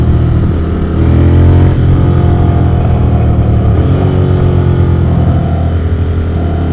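A loud, deep motorcycle engine revs and roars continuously up close, its throaty rumble rising and falling slightly.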